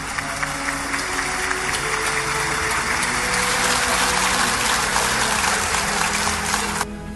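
Dense, steady applause from a large crowd at a speech by João Lourenço, loud and continuous for about seven seconds before cutting off sharply near the end.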